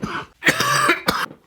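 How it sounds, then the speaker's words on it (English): A person coughs up close, one harsh cough followed by a longer rasping fit and a final short cough. "I just had like the nastiest cough session just now"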